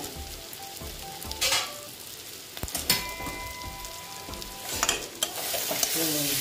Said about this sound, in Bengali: সুন্দর কষানো হয়ে গেছে।